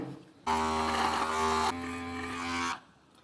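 A Trimfinity 1.0 beard trimmer set with a 12 mm guard buzzes close by, switching on abruptly, shifting slightly in pitch midway, then cutting off after about two seconds.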